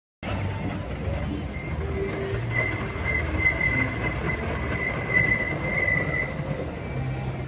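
Wolverine Wildcat wooden roller coaster rumbling steadily along its track with a faint high squeal running through, a continuous close ride noise with no voices.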